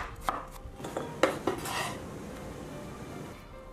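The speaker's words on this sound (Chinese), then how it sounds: "接着我们给它切成薄片，" A kitchen knife slices halved bitter melon into thin pieces on a cutting board, with a handful of crisp, irregular taps close by before the cutting stops and only quiet room tone remains.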